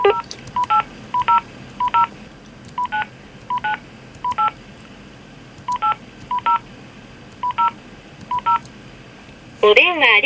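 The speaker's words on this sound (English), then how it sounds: "I'm going to dial the free dial." Touch-tone keypad beeps from a phone dialing a free-dial number to retrieve a parcel from Japan Post, about a dozen short paired tones in an uneven sequence, clear and close, ending in a louder burst of a line tone.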